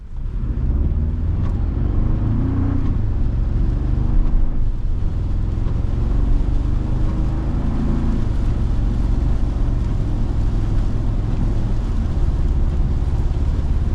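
A 2024 Toyota Tacoma TRD Sport 4x4 pickup truck driving, heard from inside as a steady low engine and road rumble with some gentle changes in pitch.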